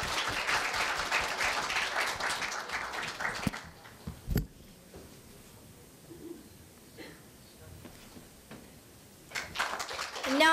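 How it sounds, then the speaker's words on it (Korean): An audience applauds at a Korea University speech festival for middle school students as a student speaker comes on, loud clapping that fades into quiet room noise, then rises again briefly near the end. "박수로 환영해 주시길 바랍니다."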